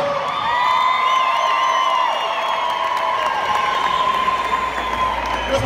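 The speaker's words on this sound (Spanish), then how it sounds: "Un aplauso para Marisela." A crowd at an evening tribute concert for Chalino Sánchez applauds and cheers, steady and full for several seconds, with whoops and shouts over the clapping.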